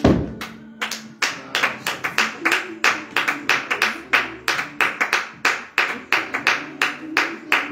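A congregation claps together at a morning prayer service, hands striking in a quick, steady rhythm throughout with slight unevenness between beats, loud and close.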